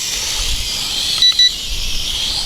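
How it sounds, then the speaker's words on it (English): A JJRC H31 drone controller gives two short electronic beeps in quick succession, cutting through a steady high-pitched hiss, close and clear. "it gives you a single beep in rate 2 again"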